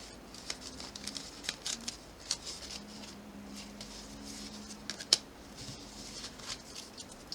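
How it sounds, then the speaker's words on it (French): Tarot cards are picked up and handled in quiet, irregular light taps and soft flicks, with a sharper snap near the middle and faint low murmuring underneath. "Je lève le petit tas de cartes."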